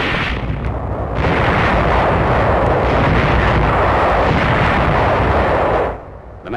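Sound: gunfire and artillery in WWII battle footage

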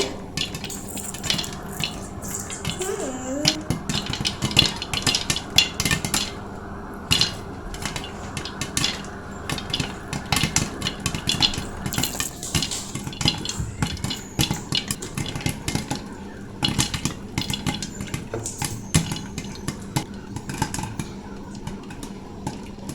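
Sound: popcorn kernels popping in a pan

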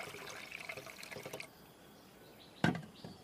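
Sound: water being poured into a container

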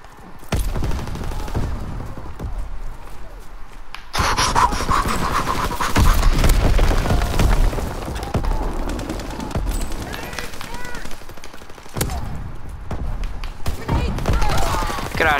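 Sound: gunfire in the video game Call of Duty: WWII

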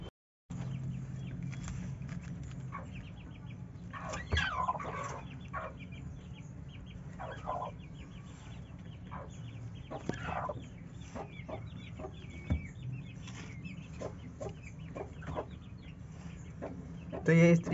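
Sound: broody hen clucking

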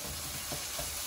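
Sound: stirring tawa keema mince meat with salt

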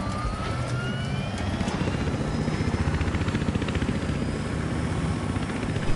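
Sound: helicopter in video game Battlefield Hardline

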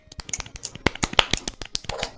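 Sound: finger snapping

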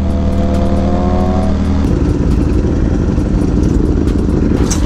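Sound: motorcycle revving while doing a wheelie

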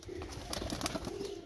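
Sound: pigeon cooing

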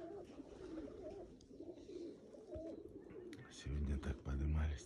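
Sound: pigeons cooing

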